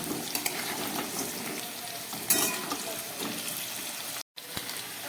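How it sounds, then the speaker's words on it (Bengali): Large chunks of potato salted in a kadai sizzle steadily in hot oil, a dense continuous crackle with occasional stirring scrapes, close and without speech. "কড়াই বসিয়ে দিয়ে তাতে বড় বড় করে কাটা কয়েক পিস আলু আমি খুব ভালো করে ভেজে নিচ্ছি"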